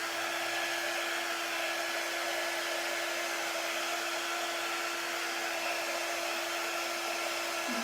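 A heat tool blows continuously to dry decoupage on house cut-outs, a loud, steady, unbroken rushing whoosh held close for several seconds, with no voices.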